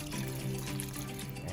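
Water pours steadily into a pot while a Guyanese oildown is made in a backyard kitchen, a continuous splashing trickle at close range with a low background hum.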